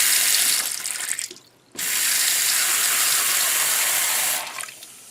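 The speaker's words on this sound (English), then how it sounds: "we'll turn on the water." A bathroom sink faucet under repair after a dripping fault runs loudly with a steady broadband rush, cuts off briefly, then comes back on full and continues before easing down near the end.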